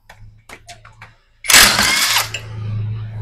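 A wrench works on an exhaust nut of a Honda Beat FI scooter: several quick ratcheting clicks come first, then a loud, close, harsh mechanical burst that trails into a lingering hum.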